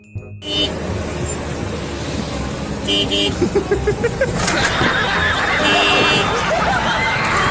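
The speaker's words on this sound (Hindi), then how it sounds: "पीछे कार वाला हॉर्न मारता है।" Busy traffic roars nearby as a car horn toots several times, with background chatter and people talking over the street noise.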